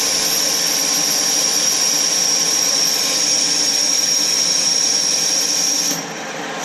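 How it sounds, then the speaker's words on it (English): A metal lathe cuts under power feed at about 30 thousandths of an inch depth, giving a steady, fairly loud mechanical whine with a bright tonal ring that holds evenly, then drops off near the end as the machine stops. "Now I'm gonna engage the power feed."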